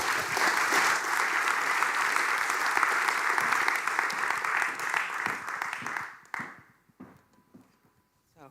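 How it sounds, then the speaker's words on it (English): Audience applause at a graphic design talk on activism, a dense crowd of clapping that holds steady and loud, then thins into a few scattered claps and fades to near silence. "Roosje Klap, an applause."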